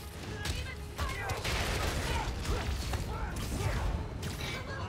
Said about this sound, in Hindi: तेरी तो तू मुझ पे गोलियां चला रहे हो